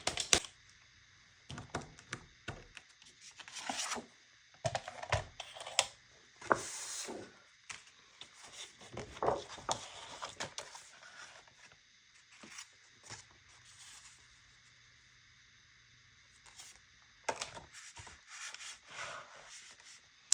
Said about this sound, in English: get out my paper cutter and cut this out